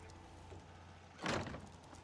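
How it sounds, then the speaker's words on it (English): A door closes in the video game Fallout 4, a single short scraping thud lasting a quarter second over a steady low in-game hum. "Close the door, pup."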